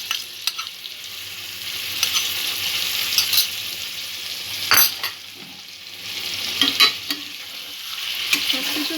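Potato and spinach curry is stirred in a hot pan, a steady sizzle broken by repeated scraping strokes and utensil clicks, close and fairly loud with no talk.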